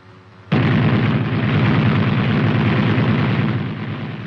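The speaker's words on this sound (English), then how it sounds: "He opens fire when he is on target." Sustained, dense burst of automatic machine gun fire from the cupola of an M551 Sheridan light tank, starting abruptly after a half-second lull and continuing loud and unbroken to the end, with a rapid rattling rhythm.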